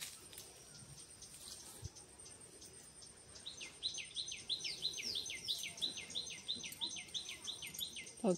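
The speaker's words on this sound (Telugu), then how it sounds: "పక్షులు చూడండి ఎలా అరుస్తున్నాయో." Birds call in a leafy backyard garden with trees, a repeated run of bright chirps standing out over faint insect buzz and distant ambient noise, with no talking.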